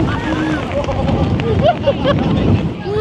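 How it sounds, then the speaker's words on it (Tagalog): Strong wind buffets a microphone on a party yacht off Boracay, a loud continuous rushing roar with excited voices and shouts breaking through. "Ang lakas ng hangin eh"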